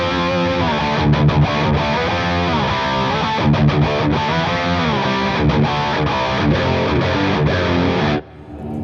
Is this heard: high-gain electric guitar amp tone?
yes